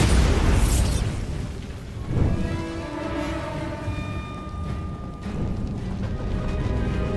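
A Bombarda blasting spell explodes in Hogwarts Legacy, a heavy boom up front followed by a second burst, then lingering rumble with faint tonal ringing and renewed noise near the end.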